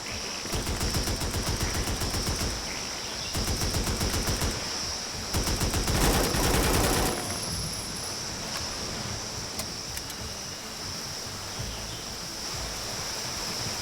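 AK rifle fire in the video game A.W.O.L, loud sustained automatic bursts that repeat several times over a constant hiss of background noise.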